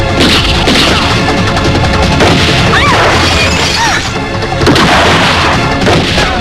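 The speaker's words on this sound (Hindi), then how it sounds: "यहाँ चारों तरफ गोलियां चल रही हैं" Gunfire and explosions crash through a Hindi action film scene, with loud booms, shattering impacts and whistling streaks densely layered over a constant roar for the whole stretch.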